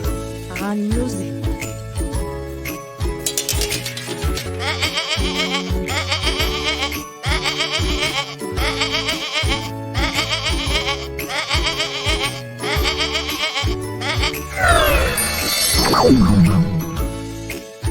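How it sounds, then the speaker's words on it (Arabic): A cartoon goat bleats in a children's farm-animal song, its voice riding over a steady, bouncy musical backing with jingly percussion that builds into a brighter flourish near the end. "عنزة"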